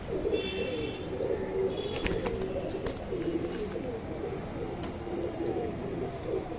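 Pigeons coo in a low, throaty, repeated murmur amid a busy flock, with scattered chirps and a faint background voice.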